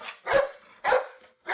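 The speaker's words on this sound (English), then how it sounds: "dog." A dog barks repeatedly in an uneven rhythm, several sharp, close, loud barks with short gaps and faint whining tones trailing between them.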